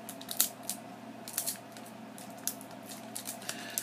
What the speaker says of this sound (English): If I could open pack number 5.